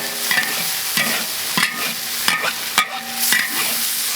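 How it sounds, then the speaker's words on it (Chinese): Vegetables and chili being stir-fried in a pan with soy sauce and sugar, with rhythmic scraping strokes of the spatula over a steady sizzle, about six distinct strokes, up close and alone. "然后再炒一下菜"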